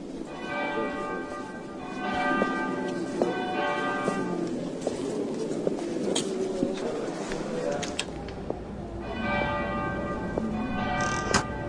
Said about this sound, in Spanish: Y me adentro en tu interior al tiempo que replican tus campanas.